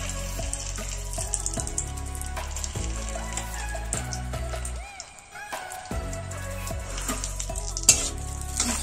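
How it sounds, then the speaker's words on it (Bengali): A spoonful of ghee heating in a hot wok, with a steady sizzle running under clattering of utensils and stirring, soft musical tones throughout and a brief quieter gap near the middle. "এবার আমি এখানে 1 চামচ ঘি গরম করতে দেব।"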